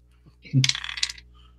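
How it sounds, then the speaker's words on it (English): A twelve-sided die rolled onto a tabletop during a tabletop horror game session, giving a short burst of clattering and tumbling clicks that settles quickly, close and alone with no talking. "roll a die 12"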